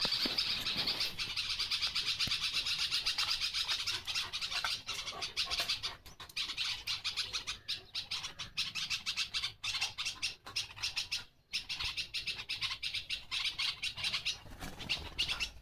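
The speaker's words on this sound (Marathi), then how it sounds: "चिमण्या काय म्हणतात होया" Sparrows chirp in a dense, continuous chorus close by outdoors, with rapid overlapping tweets and some wing flutter; no one speaks.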